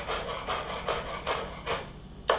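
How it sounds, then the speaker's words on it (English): A knife chops jalapeno and bell peppers finely on a cutting board with a run of quick, regular thuds, about five in a row, then a sharper final knock, close and moderately loud. "So I'm going to chop these a little finer."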